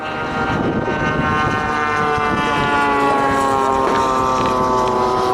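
Large scale radio-controlled model warbirds, including a B-17, Wellington, Spitfire and Thunderbolt, fly in formation at an air show, giving a loud, steady multi-engine propeller drone with layered engine tones throughout.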